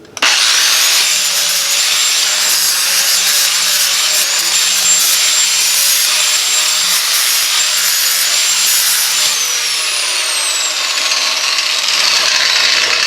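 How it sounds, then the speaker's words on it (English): An angle grinder bites steadily into metal on a garden tractor snowblower chute, a loud, close, continuous grinding whine that holds for over ten seconds with a slight pitch drop as the load changes. "we got to grind off here"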